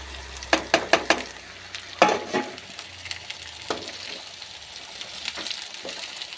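Shredded cabbage is stirred and fried in a pan: a quick burst of spatula scrapes and clatters opens, then sparser stirring strokes over a soft, steady sizzle.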